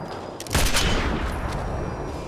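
A single sharp rifle shot from Sniper Elite 4 cracks out loud and close, then trails into a long echoing decay across an open outdoor space.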